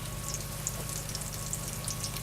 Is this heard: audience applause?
no